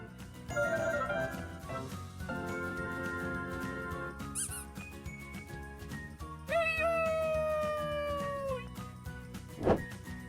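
A cartoon cat meows in a children's alphabet learning game, with drawn-out meows rising over bright, bouncy backing music.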